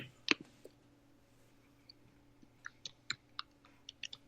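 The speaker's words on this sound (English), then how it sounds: "I'm typing it in right now." Keyboard typing heard as sparse, light clicks scattered irregularly across a quiet room, a few isolated taps followed by a quicker cluster near the end, with no talking.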